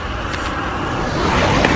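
Cars pass on a road below the mountains in rural Japan near the Southern Alps, a steady wash of tyre and engine noise that swells slightly toward the end, heard from a short distance.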